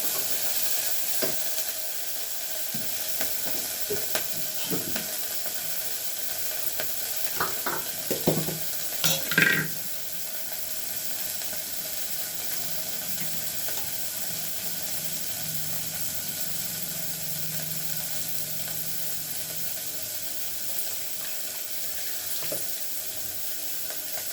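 Onions frying in a pan for tomato rice, a soft steady sizzle running throughout, broken by clattering stirring and scraping strokes near the middle, with a faint water-like hiss underneath.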